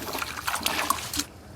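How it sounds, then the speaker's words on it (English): Kitchen tap running while hands are washed during cooking of a one-pot squash stew; a short, close splash and trickle of water that stops abruptly. "Let me just wash my hands."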